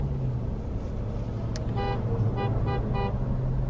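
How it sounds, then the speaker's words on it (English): A car horn honks in a short series of repeated toots over steady in-car road rumble, moderately loud against the constant engine and traffic noise. "Who's honking? Why y'all honking?"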